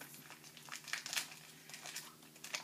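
Gift wrapping paper crinkles and crumples in a series of quick, close rustles as it is scrunched and pulled away from a birthday present, with no talk.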